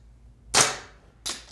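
Handgun with a red dot sight fired at a target on a portable range, two sharp close shots about three-quarters of a second apart, each cracking and fading quickly.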